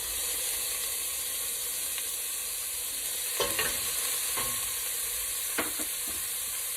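Chopped celery and pepper sizzle steadily in a hot pan with garlic, broken by a few sharp scrapes and knocks of a stirring utensil, close and without voices.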